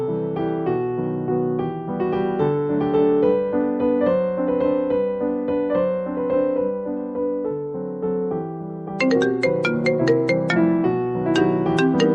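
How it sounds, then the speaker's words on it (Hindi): A mobile phone ringtone plays a bright, looping electronic melody in a home. It rings steadily and fairly loud for the whole stretch, with sharper high chiming notes joining near the end, and no one speaks over it. "माँ जी, फोन मेरा बज रहा है"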